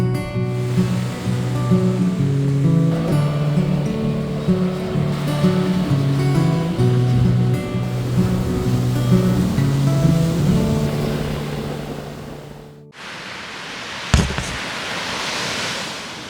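Ocean waves at Sayulita beach in Mexico, a surf town, rush as a broad, loud wash in the final few seconds, following a longer stretch of tonal music.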